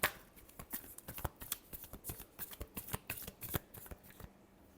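Tarot cards are shuffled by hand at close range, a quick irregular series of crisp riffling slaps and flicks lasting a few seconds, quiet and without any voice.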